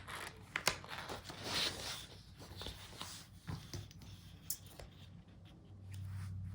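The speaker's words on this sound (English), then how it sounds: "So let's go ahead and cut these." Scissors cut through paper planner pages close by, making quiet intermittent snips and rustles of paper with a low hum toward the end and no talk.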